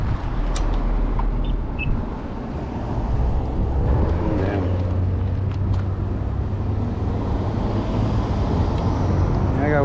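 Cars rumble past on a road near a riverside park on a warm day, a steady close wash of traffic and engine noise with a vehicle swelling by midway, while a person talks over it.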